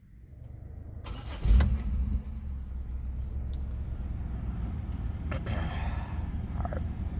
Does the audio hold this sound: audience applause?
no